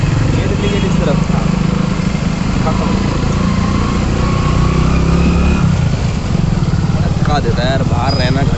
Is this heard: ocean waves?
no